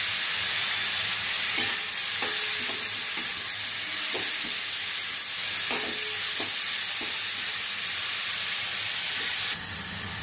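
Soaked raw chickpeas sizzle in a frying pan during banana flower cooking, a steady loud hiss with occasional scraping stirs and clinks close by.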